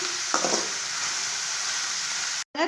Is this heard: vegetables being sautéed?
yes